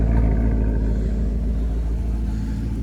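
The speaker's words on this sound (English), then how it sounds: "The noise, the pops, the growling of the exhaust." Deep, rumbling exhaust of a 2009 Maserati GranTurismo idling steadily, a low throaty growl with no sharp revs, close and constant.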